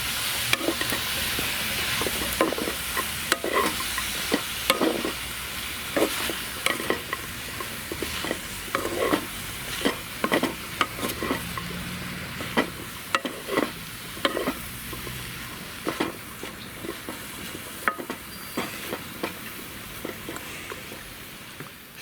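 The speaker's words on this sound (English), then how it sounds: "I should get my spatula and just give this lot a little stir round" A spatula stirs a stir-fry round a wok over an outdoor twig stove, with repeated scraping and clanking strokes at an uneven rhythm over a constant low sizzle, heard close and with no speech.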